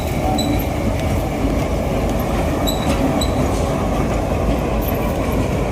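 A train rumbles continuously at Renigunta railway station, Andhra Pradesh, with a heavy steady roar and high wheel squeals standing out briefly, close and loud.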